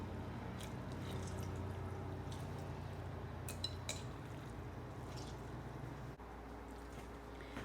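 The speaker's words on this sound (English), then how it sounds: "So I put it into some cheesecloth and wring it." Salted cucumber being wrung out in cheesecloth, giving soft, quiet squishing and faint dripping with light kitchen clatter, close and continuous with no voices.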